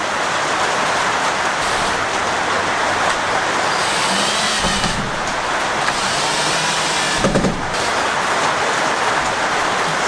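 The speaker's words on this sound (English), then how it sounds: "Sounds like a little bit of ice coming down on the roof." Ice coming down on a roof above a workshop, heard as a dense steady patter and hiss with a couple of heavier thuds partway through.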